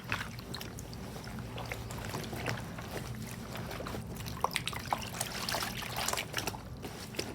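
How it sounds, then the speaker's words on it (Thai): A rust-stained cloth dipped and swished in water, giving soft sloshing and trickling with scattered small splashes that grow busier toward the end, no talking. "จุ่มน้ำให้เห็นชัดๆเลย"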